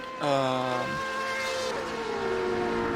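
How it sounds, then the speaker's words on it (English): An LMP2 prototype race car engine in an endurance racing video game at Silverstone, a loud sustained harmonic whine that rises in pitch, breaks at a gear change, then holds steady as the car passes, with no talk over it. "the car of Patrick Silvasi overtaking Linus Lundvall in the LMP2 car"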